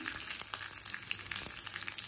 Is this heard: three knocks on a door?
no